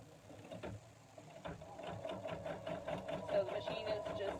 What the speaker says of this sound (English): the machine is just stitching step 7, which is the inner eye